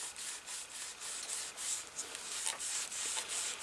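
A rag rubbing firmly over leather while a tan finish coat is deglazed, giving a steady close scrubbing hiss in quick repeated back-and-forth strokes, with no talking.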